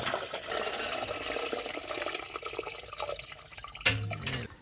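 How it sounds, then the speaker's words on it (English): Murky water full of magnetite sludge flushed from radiator micro bore pipes pours steadily down a drain, a continuous close splashing gush with a brief louder slosh near the end. "Now I'm going to pour it down a drain."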